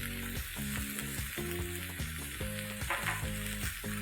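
Thick tomato gravy sizzles loudly in a pan while being stirred, a constant close hiss and bubbling with rhythmic scraping strokes underneath.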